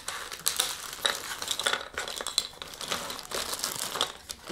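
Plastic bag crinkling and rustling as small toy fish are gathered and packed into it at home, close and irregular with bursts of crackle and brief pauses.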